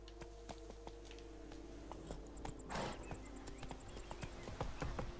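Horse hooves clip-clop at a steady trot while riding in the video game The Witcher 3, set against a low ambient game bed with a brief swelling whoosh midway.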